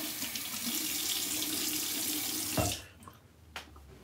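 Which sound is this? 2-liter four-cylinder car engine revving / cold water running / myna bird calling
cold water running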